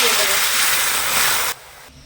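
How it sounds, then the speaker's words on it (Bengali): Thin potato sticks drop into hot oil and fry with a loud, dense, bubbling hiss that holds steady for about a second and a half, then suddenly falls to a quieter simmer. "তেলে ছাড়ার সঙ্গে সঙ্গে দেখবেন অনেক বাবল উঠতে থাকবে"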